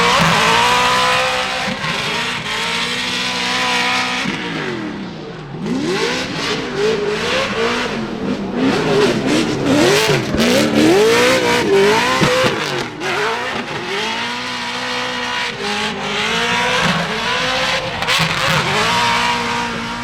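A drift car at a Formula Drift event in Atlanta, its headers glowing, revs hard in loud rising and falling surges, with screeching tire squeal running through the continuous, close engine roar.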